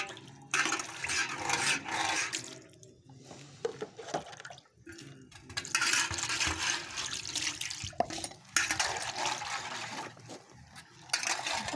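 Water pours and splashes into a copper pot in several loud, sustained bursts with short pauses between them, close by, with a faint dog bark in the background.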